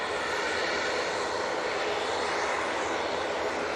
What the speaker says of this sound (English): this Jet2 A321 CEO is off to Palma de Mallorca